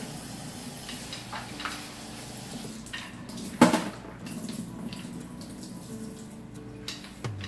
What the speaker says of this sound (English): I'm just going to give them a quick rinse in cold water.